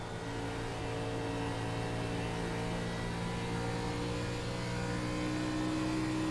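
A NASCAR stock car engine in the iRacing sim at Homestead, part of the Fixed NASCAR Series, drones loudly and steadily throughout, with a sustained, even-pitched mechanical roar and no pauses.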